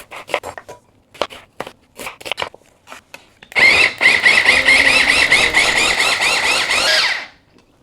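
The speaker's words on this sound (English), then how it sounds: "got me this wireless blender for Christmas" A cordless wireless blender whirs loudly and steadily for about four seconds in a home kitchen, with a high squealing motor whine, after a series of short clicks and taps.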